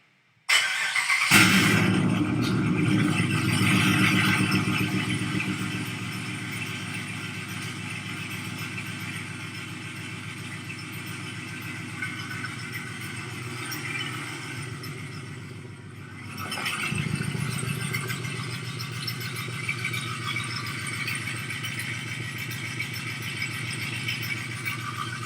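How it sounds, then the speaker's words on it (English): A cammed truck engine recorded right at the exhaust pipe barks to life with a loud rev, then settles into a lumpy, choppy idle, briefly dips and swells again, with no talking. "Sound clip of Mighty Mouse's cam truck."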